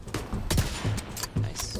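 Rapid bursts of gunfire from the video game The Division 2, several sharp shots and short volleys in quick succession, loud and close.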